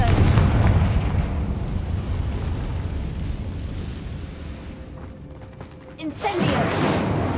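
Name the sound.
Confringo blasting curse explosion, Hogwarts Legacy video game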